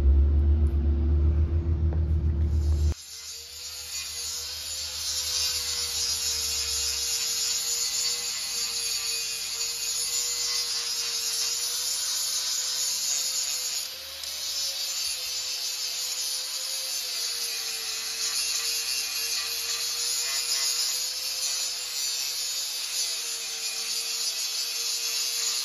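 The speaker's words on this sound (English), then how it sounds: "I think I might just give it a clean up with a grinder to get rid of that step" An angle grinder takes down built-up weld on the stub shaft of a Sumo Trio packer roller. After a few seconds of low rumble it sets into a loud, steady, whining grind that runs continuously to the end, briefly dipping midway. No talking.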